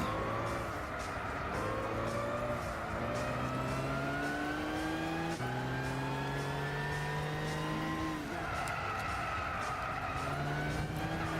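A GTO race car's engine in Gran Turismo 6 revs hard and loud, climbing through repeated gear shifts with sharp drops between each pull, steady and continuous throughout.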